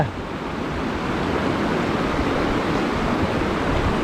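Steady broadband rush of flowing water, continuous and fairly loud, with no pauses and no voices.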